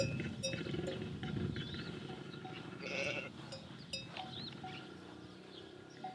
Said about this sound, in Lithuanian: o čia avis.